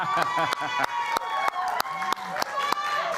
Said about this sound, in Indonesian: kita berikan tepuk tangan untuk semuanya